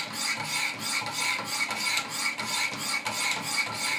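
A Benchmade 940 knife is sharpened on a Wicked Edge system with a 200 grit stone, giving a steady series of close, raspy scraping strokes at an even, alternating rhythm, about two or three per second.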